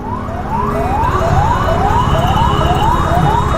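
An ambulance siren wails, sweeping up repeatedly in quick, regular cycles over a steady rumble of traffic, loud and close.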